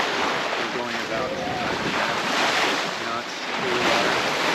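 Steady wind and ocean surf wash around a sailboat offshore in open water between Bermuda and St Martin, moving at about 9.5 knots in a 10-knot breeze, a continuous loud broadband rush with wind buffeting the microphone throughout.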